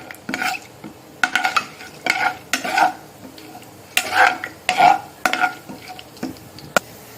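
Chana dal and urad dal frying in oil for a drumstick pickle tempering, heard as a series of close, uneven stirring scrapes and clinks of a spoon against the pan over a soft sizzle.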